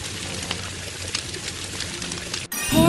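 Water gushes steadily to put out a fire at a zoo in the Robocar Poli children's game, a continuous splashing pour that ends abruptly, then a bright game jingle follows.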